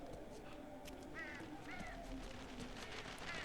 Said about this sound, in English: Even if I can't see flocks of birds, I'm occasionally hearing them.